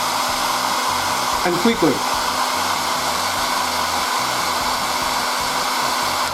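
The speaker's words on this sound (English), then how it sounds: "Now I'm going to start using my air dry, and it's going to dry really nice" Hair dryer blowing steadily to dry shiny primer on a resin model at a hobby bench, a constant loud whirring roar throughout with a brief spoken phrase near the start.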